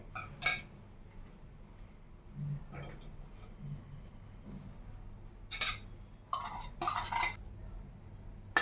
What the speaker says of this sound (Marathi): त्यानंतर यामध्ये मी खव्याला थोडं परतून घेणार आहे